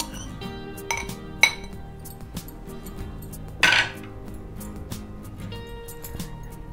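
A mixer jar is picked up and handled in a home kitchen while making coriander leaf pickle, giving a few scattered clinks and knocks of metal and glass, one sharper clatter midway, over a quiet background.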